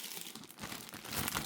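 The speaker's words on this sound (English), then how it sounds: "this is a standard size plastic bag that you may use" A standard size plastic bag is crinkled and handled up close, giving a continuous dry crackling rustle that grows busier and louder toward the end.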